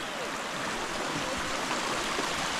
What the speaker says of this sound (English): The waterfalls are doing nice.